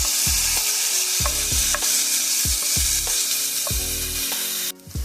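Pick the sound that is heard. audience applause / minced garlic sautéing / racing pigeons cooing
minced garlic sautéing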